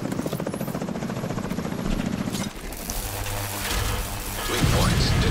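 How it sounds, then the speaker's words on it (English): Rotor chop of helicopters approaching in The Division 2, a steady rhythmic thudding with mechanical clatter layered over game combat noise, loud and continuous throughout. "I hear choppers."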